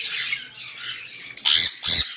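Two sharp, shrill squawks from sun conure parrots burst out close by after a few moments of hissing background noise, each brief and loud.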